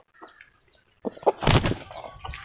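An injured Aseel rooster, after fighting another rooster, gives a short burst of loud clucking and squawking after a quiet start, with faint rustling in the background.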